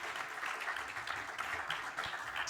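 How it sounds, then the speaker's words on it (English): A conference audience at a cybersecurity forum gives a sustained round of applause, a dense, steady wash of many hands clapping at moderate loudness with no pauses. "Gentlemen, a round of applause to you."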